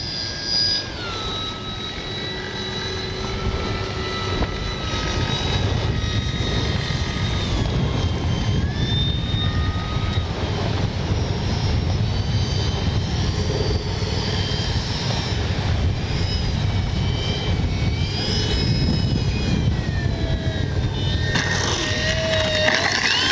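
An RC model F4U Corsair airplane engine whines continuously overhead, its pitch rising and falling as the plane maneuvers, steady and fairly loud throughout.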